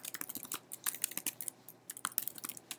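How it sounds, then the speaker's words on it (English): Typing on a computer keyboard produces quick, close clicking keystrokes in irregular bursts with short pauses, heard alone without speech. "let's type in your name"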